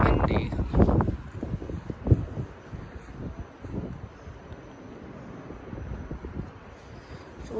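Gusty winter wind buffets the microphone in low, uneven rumbles beside a railway track, strongest at the start and easing into a steadier roar.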